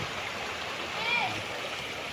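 A river flows right beside a riverside property in Pangil, Laguna, its steady rushing wash soft and continuous, with no voices over it.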